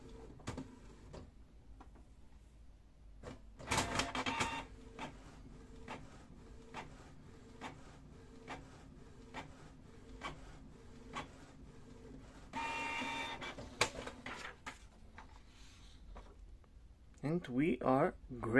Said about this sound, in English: we will print a nozzle check